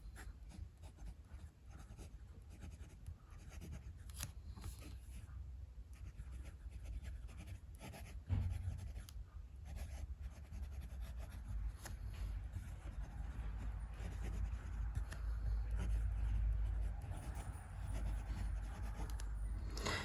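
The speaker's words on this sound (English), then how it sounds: "Let's just do some writing and see how it goes." An Esterbrook JR pocket fountain pen scratches steadily across paper up close, a soft continuous rubbing that runs the whole stretch over a low, distant traffic rumble, with no talking.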